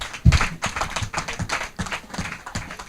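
Audience clapping at a hackathon event, a steady patter of many hands applauding across the room, fairly close and lively, with no voices over it.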